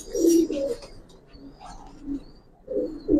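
Pet pigeons, Giribaz and coloured breeds kept in a loft, cooing in low throaty bursts, several calls spaced across the moment with brief quiet gaps between them.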